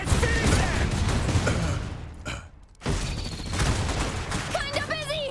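Gunfire from a battle in the strategy video game Iron Harvest, dense bursts and booms filling the scene with a brief lull midway, while voices of units and a player talk over it.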